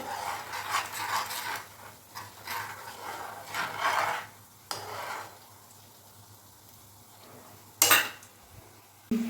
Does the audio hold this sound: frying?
yes